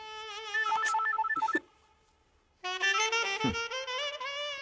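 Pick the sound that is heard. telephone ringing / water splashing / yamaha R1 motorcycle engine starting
telephone ringing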